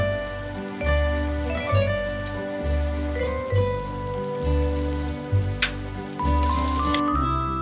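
Meat frying in a pan with a spoonful of sour yogurt stirred in, giving a steady wet sizzle and crackle over a looping low rhythmic hum, with no talk.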